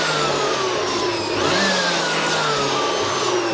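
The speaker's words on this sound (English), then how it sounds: "And then we are blowing so that we can dry the foam." An electric blower blasts air through a desktop computer system unit to dry cleaning foam, a loud continuous whining roar with a steady tone that shifts slightly in pitch, close and alone.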